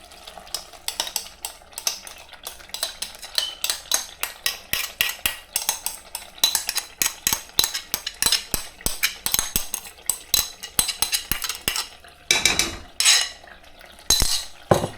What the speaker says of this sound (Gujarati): મિક્સ કરી પછી આપણે નાખી દઈએ આપણી ગ્રીન પાલકની પેસ્ટ